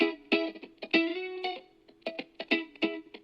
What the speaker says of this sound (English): And then I started with the guitar.